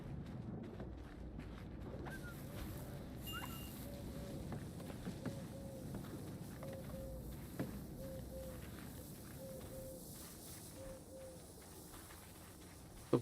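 Soft, regularly repeated cooing of a bird in the video game Herdling, low and evenly spaced over a windy outdoor ambience.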